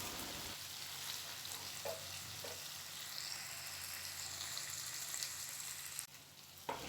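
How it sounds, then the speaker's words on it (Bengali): Marinated chicken pieces fry in hot oil in a pan, giving a soft, steady sizzle with a few faint clinks of stirring. The cooking is quiet and close, with no talking. "এই তেলের মধ্যেই মাংসটা খানিকটা ভেজে নেব।"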